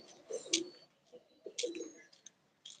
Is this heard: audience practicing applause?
no